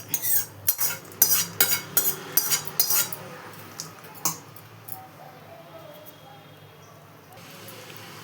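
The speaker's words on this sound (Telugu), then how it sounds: "దీన్నంతా బాగా ఇట్లా మిక్స్ చేసుకొని పెట్టుకోవాలి" Fried coconut pieces being stirred into sweet chalimidi dough made from rice flour, with a spoon clinking and scraping against the bowl in a quick series of sharp knocks that then fade to soft mixing.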